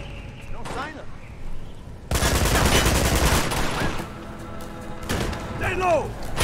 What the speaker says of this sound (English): Heard gunshots, but from where is the question?